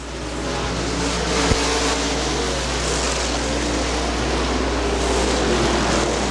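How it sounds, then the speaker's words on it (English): Super late model race cars roar around the oval at Butler Motor Speedway, a steady dense engine drone from a field of cars, heard at a moderate distance with one brief sharp knock partway through. "A couple super late models going head to head."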